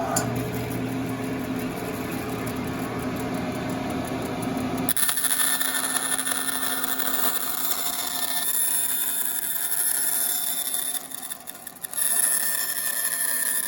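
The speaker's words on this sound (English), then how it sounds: "When you cut this out on the bandsaw, you have to be very careful to leave your line." A bandsaw cutting wood for acoustic guitar sides, a loud, steady whining drone that shifts in pitch as the cut changes, with a brief dip near the end before the motor noise resumes.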